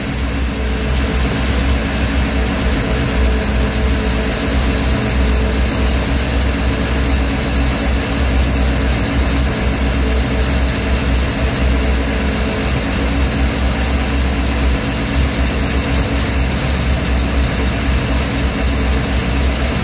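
A Volvo Penta AQ211A marine engine running steadily with its choke opening, giving a loud, constant droning roar with no breaks or changes in pitch.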